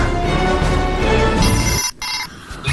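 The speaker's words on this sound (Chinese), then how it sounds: "还给我打电话。" A telephone rings with a steady electronic tone for nearly two seconds, loud and close, then cuts off abruptly, leaving a brief quieter stretch.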